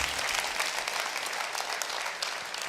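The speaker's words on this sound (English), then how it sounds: "Let's give all the speakers a round of applause" An audience at a bank's annual meeting gives a round of applause for the speakers, a soft, even patter of many hands heard from some distance, without talk.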